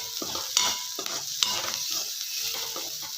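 North Karnataka-style cabbage palya with coriander is stirred in a sizzling pan, a steady fry hiss broken by rhythmic scrapes and taps of a spoon against the pan.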